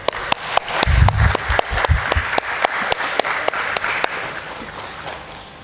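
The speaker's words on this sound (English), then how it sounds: "Clap." Audience applause at a BSE Social Stock Exchange NGO bell ringing ceremony: a sustained round of clapping with sharp individual claps standing out, moderately close and steady throughout.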